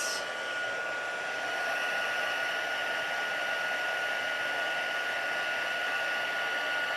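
A heat tool blasts hot air onto washi tape in a craft setting, a steady, even whoosh that runs unbroken and close throughout with no talking.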